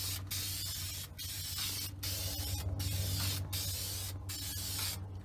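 A car dashboard is spray painted in short, close hissing bursts, about six or seven passes with brief silent gaps between them, over a low steady hum.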